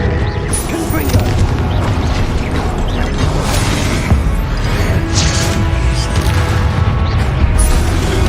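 Spellcasting combat in Hogwarts Legacy on hard mode, with a string of Confringo explosive blasts and crashing impacts rolling continuously while a player shouts spell names over the din.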